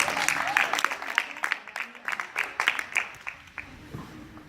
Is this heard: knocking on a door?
no